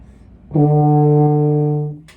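A single sustained low brass note on a euphonium, held steadily for about a second and a half, clear and close.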